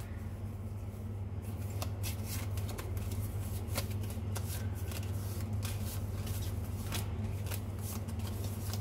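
Tarot cards being shuffled by hand, a continuous close riffle of papery flicks and soft snaps over a steady low hum.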